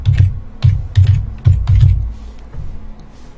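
Keystrokes on a computer keyboard as a search keyword is typed, coming in quick clustered bursts of clicks with brief pauses, close and fairly loud with no talking.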